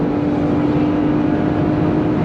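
Engine of a 2023 Jeep Gladiator Rubicon pickup, heard as a steady, continuous drone and hum at a constant level with no talking.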